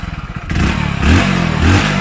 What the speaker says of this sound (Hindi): अब देखिए यहाँ पर मैं इसमें एक्सीलेटर देता हूँ